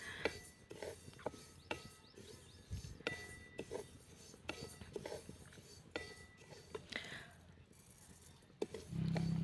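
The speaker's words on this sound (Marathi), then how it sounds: "एकसारखं परतत राहायचं आहे म्हणजे व्यवस्थित सगळीकडून जवस हे भाजले जातात" Dry flaxseeds stirred and turned in a pan while roasting, giving repeated soft scraping and rattling strokes at a steady pace, fairly close and low in level, with a brief louder hum right at the end.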